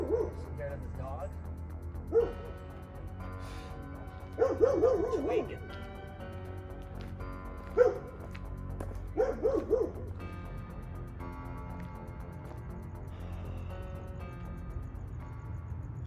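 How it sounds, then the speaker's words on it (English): A dog gives a few short barks and yips at intervals, set back and moderately loud, while people talk over a low background hum in a Halloween comedy scene. "Scared of the dog?"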